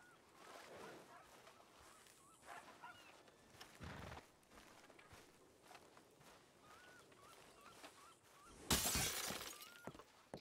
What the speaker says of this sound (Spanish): sí, lo sé, he roto los cristales